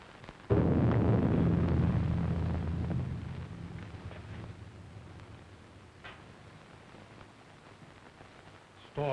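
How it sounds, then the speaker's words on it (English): A deep thunderclap rumbles loudly through a rising storm in a 1932 horror mystery film, booming at the start and slowly rolling away into a low, fading wind-like roar. "Storm is increasing."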